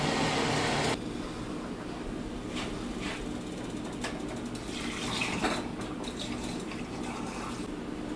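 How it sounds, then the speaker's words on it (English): Scalding water is poured over metal canning jar lids and rings while pickles are being prepared. The steady, rushing flow and splatter continue throughout, close by, with a few brighter drips and trickles near the end. "go ahead and pour your scalding water over top of your lids and rings"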